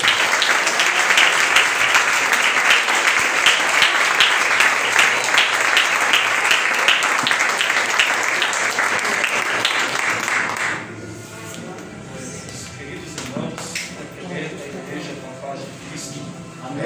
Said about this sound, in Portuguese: vamos receber o servo do Senhor com as palmas para o Senhor